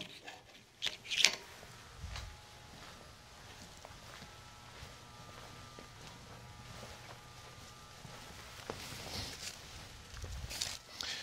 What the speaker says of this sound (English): Let me get some fresh paper for you.